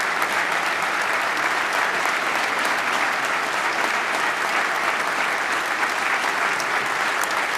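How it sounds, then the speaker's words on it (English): A large audience at a state-of-the-state address gives General Wilson a round of applause, dense and sustained clapping that stays even and loud throughout. "Y'all need to give General Wilson a round of applause, too."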